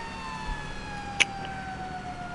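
A fire truck siren sounds in the PS4 video game Lego City Undercover as a steady, fairly faint electronic wail that holds a drawn-out tone throughout, with one short sharp click partway through.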